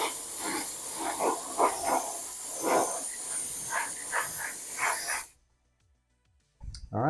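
Fluorescent pink spray paint hisses from an aerosol can onto an RC car body in a string of short, close bursts, then falls silent before a brief final noise.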